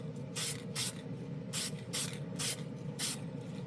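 Testors Extreme Lacquer paint misted from a spray can onto a spoon in six short, evenly spaced hissing bursts, close and crisp over a steady low background hum, with no talking.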